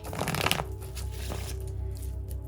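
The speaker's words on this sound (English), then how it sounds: "I was told to do 4 little shuffles." A short riffle of cards being shuffled, a quick papery flutter that fades into a soft rustle, with no voices.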